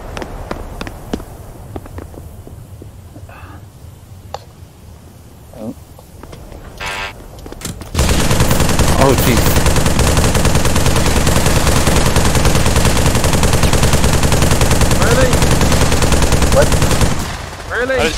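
Rapid automatic gunfire from a gun in a virtual reality shooter video game rattles loud and continuous for about ten seconds after scattered quieter game sounds and clicks, then cuts off.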